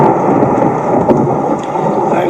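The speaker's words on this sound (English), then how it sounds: "I love a lightning storm." A thunderstorm in a film scene, a continuous loud roar of rain and rolling thunder filling the short stretch, with no clear talk over it.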